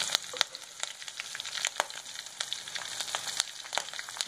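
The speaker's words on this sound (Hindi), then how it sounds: "हरी मिर्च चटकने लगी।" Green chillies spluttering in hot oil in a pan for zeera rice, a steady sizzle broken by sharp irregular pops and crackles, close and alone without talk.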